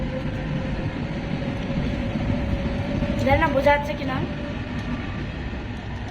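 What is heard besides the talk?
train passing by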